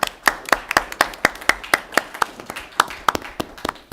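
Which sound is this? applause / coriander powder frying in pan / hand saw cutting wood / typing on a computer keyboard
applause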